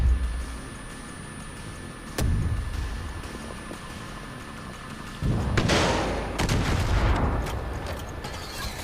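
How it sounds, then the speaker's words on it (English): Mortar rounds land in Far Cry 5, giving two loud booming impacts a few seconds apart over rumbling ambient noise, the second followed by a longer crackling, debris-filled tail. "I need to figure out where the mortar is coming from"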